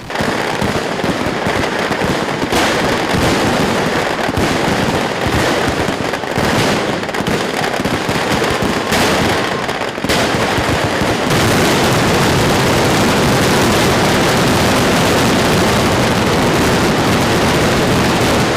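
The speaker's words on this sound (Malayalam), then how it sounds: "ആദ്യം പാറമേക്കാവ് വിഭാഗം വെടിക്കെട്ടിന് തിരികൊളുത്തി" Rapid, loud bursts of Thrissur Pooram fireworks by the Paramekkavu group exploding in dense, continuous volleys, cracking and booming without pause.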